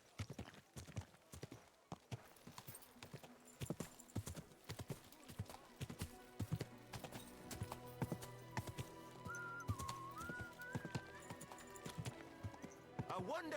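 A horse's hooves clip-clop in Final Fantasy XIV, a steady run of moderately loud hoofbeats with a brief whinny, under light game music and ambience.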